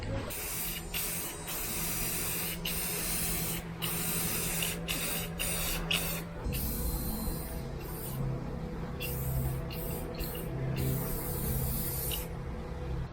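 Aerosol spray can lays a coat of paint onto car trim: a steady, close hiss running nearly unbroken, with brief pauses between passes and a slight shift in tone midway.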